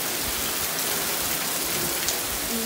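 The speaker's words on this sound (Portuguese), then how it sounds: "Olha que delícia de chuvinha da tarde." Steady light rain patters on surfaces, a continuous even hiss of drops with no voices.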